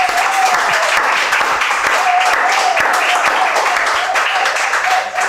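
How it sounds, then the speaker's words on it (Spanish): A small audience applauds after a tango song at a live-streamed talk show, with continuous clapping that stays loud and steady throughout. "Los poquitos que estamos, un aplauso, por favor, gente."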